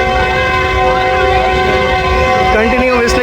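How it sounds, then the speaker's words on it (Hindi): A locomotive whistles continuously as it moves through a crowded platform at Jhang Sadar station, one loud, unbroken harmonic tone that bends slightly toward the end. "कंटिन्यू विस्लिंग करते हुए जा रहे हैं"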